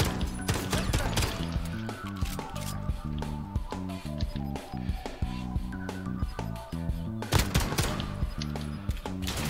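Rapid gunfire in the Modern Warfare video game, a 2v2 Gunfight match: bursts of repeated sharp shots crackle over several seconds with no voices.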